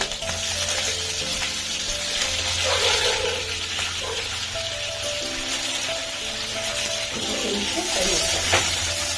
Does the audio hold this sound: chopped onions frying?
yes